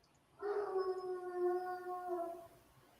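A dog lets out one sustained, wavering howl lasting about two seconds. It is clear and fairly close against a quiet background, heard during a chess tournament broadcast.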